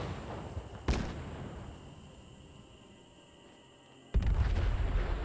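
Burning cars and a truck exploding in the post-apocalyptic game Fallout 76, two sharp booming blasts a few seconds apart over a low crackling fire rumble, with no voices.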